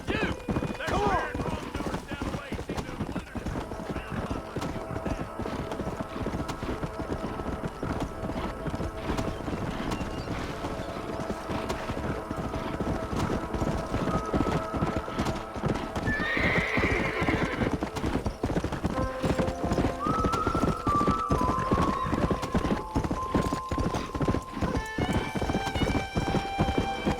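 Horse hooves clip-clop steadily in Red Dead Redemption, a close, continuous trotting rhythm with occasional whinnies and snorts, game music and voices talking over it in places.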